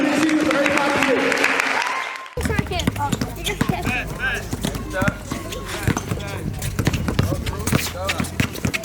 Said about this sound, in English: So round of applause for the winning team for everybody here.